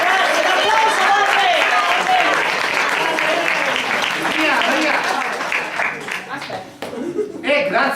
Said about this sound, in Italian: Grazie, l'applauso va